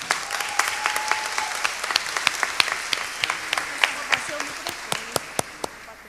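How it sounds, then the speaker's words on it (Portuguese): An audience at a women entrepreneurs' forum panel claps steadily for the moderator, with sharp individual claps over a continuous applause wash and a faint voice beneath. "com uma salva de palmas para ela"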